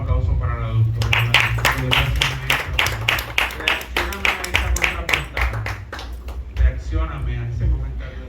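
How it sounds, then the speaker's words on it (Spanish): An audience at a book presentation claps in a burst of applause that runs for several seconds, with a person talking over the clapping. "Un aplauso para la doctora."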